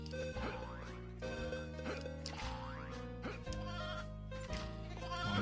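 Sheep bleat repeatedly in the Toy Story 2 video game, several distinct cries over looping game music, loud and clear with no talking.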